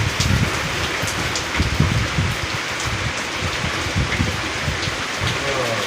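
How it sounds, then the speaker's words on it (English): Heavy rain pelting and bouncing off the ground in a dense, constant patter, with faint low rumbles beneath the downpour. "That's rain bouncing off the ground."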